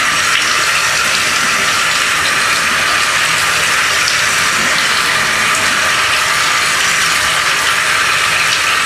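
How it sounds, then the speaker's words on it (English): Tap water runs in a steady, loud, unbroken gush while a K&N filter is washed out under the stream, with no voices. "you want to make sure that you wash this out thoroughly."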